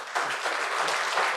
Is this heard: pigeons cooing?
no